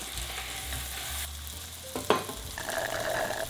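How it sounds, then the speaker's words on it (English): A steak searing in a pan for medium rare, a soft, close sizzle that rises and falls, broken by a brief clatter partway through, with no voices. "going to let this fry for about 5 to 6 minutes on this side, then I'll flip it and do the same."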